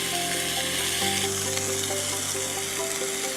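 Onions and tomatoes sizzle and spit in a hot pan, a steady close frying hiss with a brief stirring scrape as more food drops in partway through.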